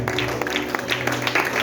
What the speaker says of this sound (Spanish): ¿Cuánto le pueden dar un aplauso al Señor?